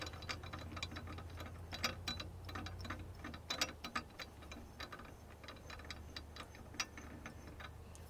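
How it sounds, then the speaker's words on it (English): Threaded parts of a PCP air rifle regulator being unscrewed by hand, giving quiet irregular metallic ticks and clicks over a low steady hum, close up with no speech. "just unscrew it."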